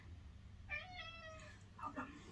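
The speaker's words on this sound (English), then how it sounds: "sorry, that's the cat." A domestic cat meows indoors, a few clear drawn-out calls followed by a shorter meow, close by and moderately loud over a quiet room hum.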